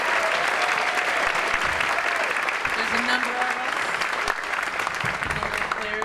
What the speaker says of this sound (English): let's just have a big round of applause for all the soccer people in here